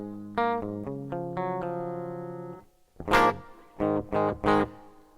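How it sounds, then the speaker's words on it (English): An electric guitar played clean without EQ rings out alone, sustained chords and notes decaying, then a brief pause followed by several sharp strummed chords in a short rhythmic burst. "that's pretty much what the guitar sounds like just by itself"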